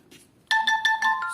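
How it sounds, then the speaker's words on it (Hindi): An Infinix Note 10 smartphone sounds its anti-theft alarm after the charger is unplugged: a loud, bright electronic tone pulses rapidly about five times in quick succession, close by, with nothing else heard. "इस तरह जो है ना वो फ़ोन अलार्म मतलब बीप करने लग जाएगा।"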